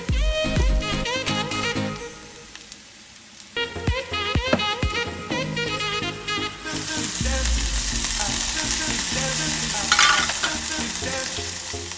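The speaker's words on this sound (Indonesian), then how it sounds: "炒到咁上緊，將啲蛋同埋蝦仁等埋落去，撈勻佢，炒香佢。" Eggs and shrimp are stir-fried with quinoa and kale, a spatula scraping and tossing in a pan with steady close sizzling that swells into loud frying partway through, with no one talking.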